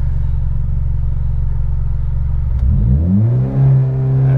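A Mitsubishi Lancer Evo X engine idles with a steady low drone, then climbs smoothly and rises in pitch as it revs up to around 4000 RPM during an SST transmission teach-in, loud, close and without talk.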